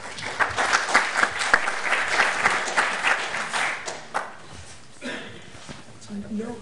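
Audience applause at a smart grids talk, a steady wash of clapping for the first few seconds that fades out, followed by people talking.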